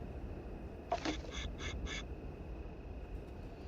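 Wooden ducks in a video game give a quick burst of five short, evenly spaced quacks, clear and moderately loud over a steady background hum.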